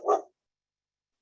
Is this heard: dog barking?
yes